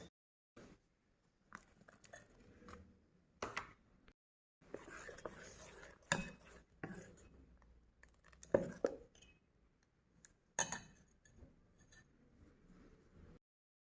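Chopped vegetables being mixed into leftover dosa batter in a bowl for paniyaram, sporadic wet squelches, taps and clinks of a utensil with quiet pauses between, close and soft.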